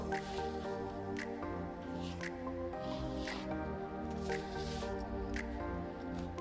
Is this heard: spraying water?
yes